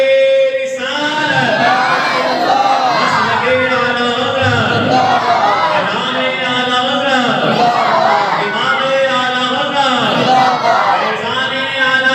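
A large gathered crowd at an Urs program in a mosque in Indore chants in unison in response to a takbeer call, with loud, rhythmic, repeated rising-and-falling waves of voices sustained throughout.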